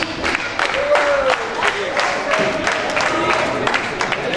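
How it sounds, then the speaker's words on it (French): Audience applauding at the close of a show, dense ongoing clapping from a crowd with a few whistles and cheers rising over it, loud and near. "Vous pouvez vous applaudir, vous avez été un super public."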